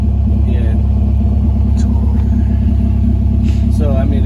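Car engine running at a steady idle, a loud, constant low rumble with a few brief voices over it.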